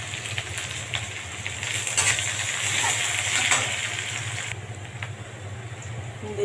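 Whole cumin seeds and bay leaf sizzle steadily in hot oil in a pan while cooking yardlong beans, a close, continuous frying hiss that briefly swells midway.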